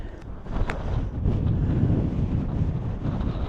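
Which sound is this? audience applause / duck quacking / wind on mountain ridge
wind on mountain ridge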